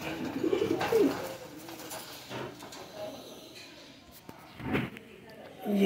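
Domestic pigeons give soft, low cooing calls in a few short bursts nearby, mixed with faint rustling and background noise while someone talks.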